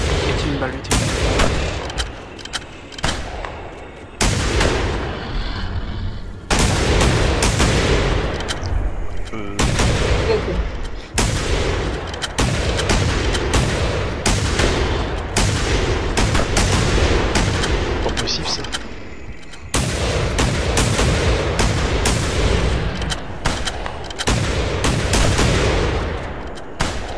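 Gunfire in The Hunter: Primal, a hunting video game, comes as a series of loud sharp shots and booming reports spread across the stretch, with someone talking between the bursts.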